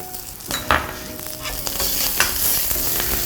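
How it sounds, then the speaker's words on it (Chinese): Ginger, garlic and onion slices hiss and crackle in hot oil in a wok as they are stir-fried, with a few louder scraping and tossing bursts over a steady sizzle. "我们加入少许的油，下入这个姜蒜片，还有洋葱片、"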